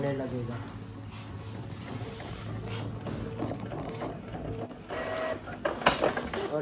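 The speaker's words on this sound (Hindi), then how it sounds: "और कमांड देते ही बैक साइड प्रिंट होने लगेगा।" A card printer running a PVC PAN card through to print its back side: a steady mechanical whir with gear-like rattles and clicks, close by, while a person talks over it.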